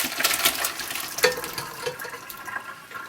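Water pours off boiled potatoes as a pot is drained, a continuous splashing gush with small clinks and knocks, close and moderately loud, slowly tapering toward the end.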